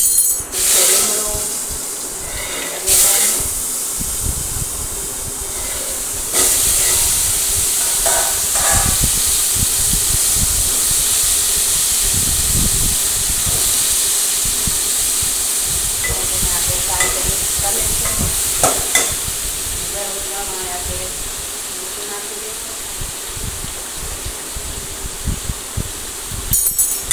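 Mustard seeds, cumin, asafoetida and curry leaves crackle and sizzle in hot oil for a millet dish, a steady hissing fry with sharp pops and occasional scrapes of stirring, close and fairly loud throughout with no speech.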